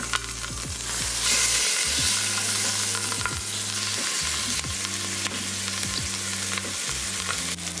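Pork browning in a hot Instant Pot, sizzling and frying steadily with a constant crackling hiss and occasional scraping clinks, close and fairly loud, no talking.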